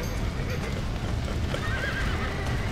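A horse whinnies during gameplay in Red Dead Redemption, a drawn-out neigh heard under steady background ambience and hoof movement.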